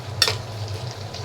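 Dried fish and potatoes are turned in a frying pan, with one sharp utensil knock against the pan followed by a soft, low sizzle and faint stirring.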